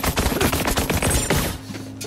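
Rapid turret gunfire in the video game Borderlands 3 rattles in dense bursts of sharp shots, loud and close, before cutting off into a quieter hum near the end.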